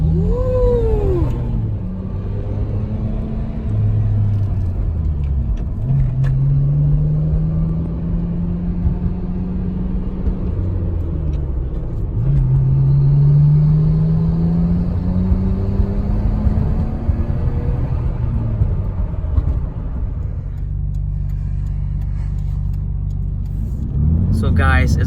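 A Nissan Skyline GT-R R34 engine revs and accelerates close up from inside the car, rising and falling through gear changes over steady road rumble, with someone talking over it.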